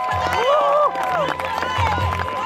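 A church congregation at a Sunday morning service cheers and claps together, a loud burst of crowd noise with voices rising over it, while a speaker talks in German.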